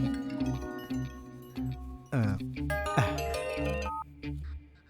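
A phone rings during a call in a South Indian action movie, a melodic electronic ringtone with repeating tonal phrases over a low musical backdrop, close and clear with no speech.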